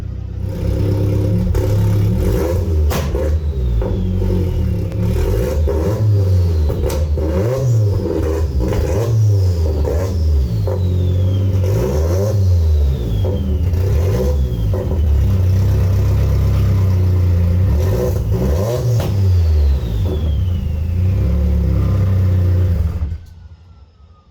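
A car engine revs up and down repeatedly, close and loud, in rising and falling sweeps with some clattering, as the car is driven off, then cuts to quiet near the end.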